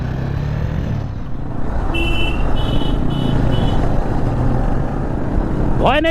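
Motorcycle engine droning steadily on a hill road ride from Siliguri to Dawaipani, loud and close with wind noise, brief beeping tones and a rising whine at the end.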